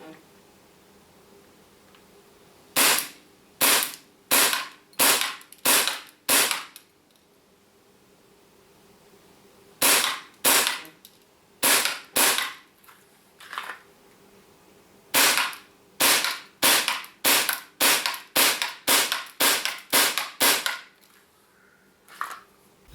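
A Tokyo Marui FN5-7 gas blowback airsoft pistol fires 0.3 g BBs at an accuracy test over 15 meters, in loud, sharp, close shots spaced about half a second apart, grouped into several runs with pauses between them.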